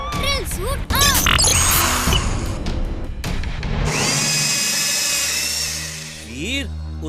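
A cartoon robot boy's drill suit activates with a loud mechanical clatter and a rising, whining whir. Swooping synthetic tones and voices in a Hindi cartoon accompany it.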